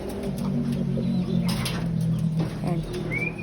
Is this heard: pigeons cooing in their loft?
yes